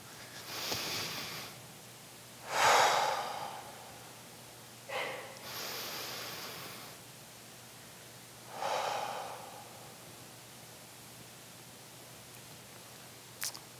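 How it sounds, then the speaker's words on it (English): Several slow, deep breaths during a guided contemplative practice session, each a soft, airy inhale or exhale rising and fading, separated by quiet pauses. "why don't we take a couple of deep breaths?"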